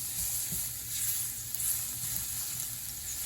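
About a tablespoon of garlic sizzles in a hot frying pan: a soft, steady, hissing crackle that stays quiet and even throughout, with no talking.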